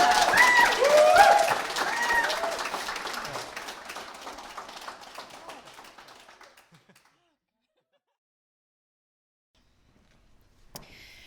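Wedding guests burst into applause with cheerful whoops and chatter, loud at first and then thinning out and fading to silence, followed by one soft knock near the end.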